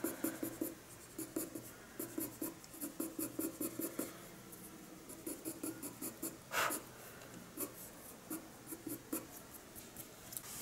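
Colored pencil glazes light phthalo blue onto paper in a drawing of a kingfisher's wing, with close, quiet scratchy strokes in quick rhythmic bursts and short pauses between them.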